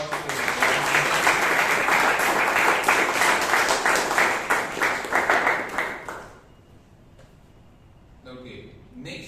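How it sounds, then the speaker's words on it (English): An audience at a Toastmasters meeting in Bangalore gives a round of applause, with dense, steady clapping for about six seconds before it dies away into quiet and a voice starts to speak. "one more big round of applause"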